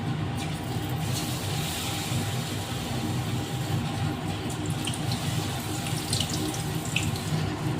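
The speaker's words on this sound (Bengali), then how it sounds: "চপগুলো উল্টে পাল্টে ভেজে নিচ্ছি।" Banana flower chops fry in oil in a wok, giving a faint, even bubbling sizzle that runs unbroken for several seconds, with no talking.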